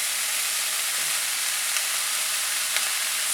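Vegetables sautéing in a hot pan give off a steady, broad hiss of sizzle with faint crackles, continuous and fairly loud throughout.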